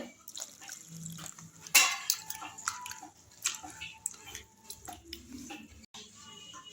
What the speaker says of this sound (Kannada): ಹಾಗೆ ಅವಲಕ್ಕಿಯನ್ನು 2-3 ಸತಿ ನೀಟಾಗಿ ತೊಳ್ಕೊಳ್ಳಿ, ಧೂಳಿರುತ್ತೆ